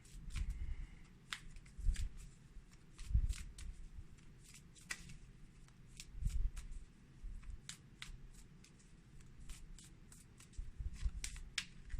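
Tarot cards are shuffled close by in a quiet room, giving a run of crisp, repeated flicking riffles over a low background hum.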